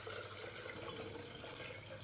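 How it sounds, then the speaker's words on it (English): Warm coffee pouring in a steady stream into an enema bag with its bottom clamp shut, a soft continuous liquid rush that stays close and even from start to finish. "And then pour your coffee in."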